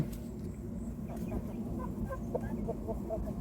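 A hen recovering from a leg ailment gives soft, scattered clucks over a steady low background rumble. The calls are faint and keep going through the whole stretch.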